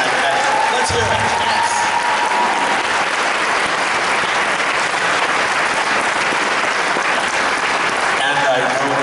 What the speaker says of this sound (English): we need to give a round of applause to everyone who was part of the Friday night event